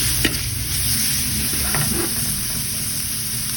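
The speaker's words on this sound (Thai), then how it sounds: "อันนี้ก็คือจะคนไปพร้อมๆกับน้ำมันเลย" Pork bones fry in hot oil while being stirred, a steady close sizzle with scraping stir clicks over it throughout, no talking.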